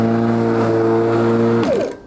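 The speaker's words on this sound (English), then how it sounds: "I'm going to run the motor as best I can, and we'll just see if it fires up" A Makita 308 lawn mower motor runs with a steady humming whine for a second and a half, then winds down and cuts out abruptly.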